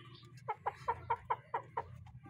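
A fighting gamecock clucks in a quick series of about seven short, evenly spaced calls over a low steady hum, close by.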